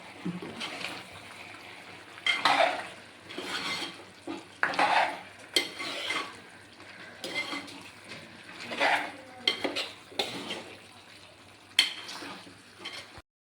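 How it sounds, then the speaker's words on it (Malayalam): Chicken curry stirred in a pan as its own juices release, giving repeated scraping and clattering strokes of a spoon against the metal over a soft simmer, close and alone. "ചിക്കനകത്തുനിന്ന് തന്നെ വെള്ളം ഇറങ്ങി ഇളക്കിയിട്ട് കൊടുക്കാം"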